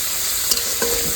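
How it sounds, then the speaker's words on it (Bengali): Paneer fries in a pan with a close, continuous hiss and sizzle, broken by a couple of faint utensil taps. "পনির ভাজা হচ্ছে"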